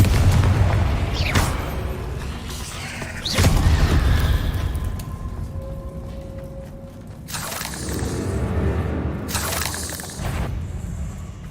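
Spell explosions from Bombarda and Confringo in the video game Hogwarts Legacy, fought against spiders: a few heavy booming blasts with crackling debris, loud and close, over a continuous rumbling game soundscape.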